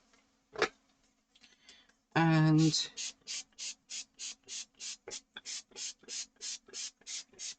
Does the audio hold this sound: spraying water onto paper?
yes